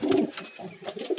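Wild pigeons coo in soft, low bursts, several short calls repeated close by with brief gaps and no voices.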